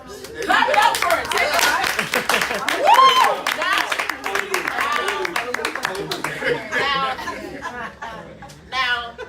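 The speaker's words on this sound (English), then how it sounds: "Clap it up for it" An audience at a conference breakout session claps in scattered bursts mixed with chuckles, chatter and people talking over it, fairly close.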